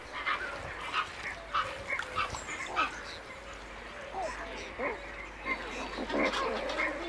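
A pelican breeding colony among reed beds, forest and water channels in the Balkan wetlands gives off repeated low honks and grunting calls at moderate distance, irregular and overlapping.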